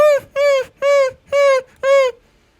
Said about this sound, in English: he has silver through his heart right now. And he's whimpering.